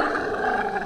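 A baby elephant on safari near Sigiriya and Dambulla in Sri Lanka gives a brief, loud, rough roaring call lasting under a second.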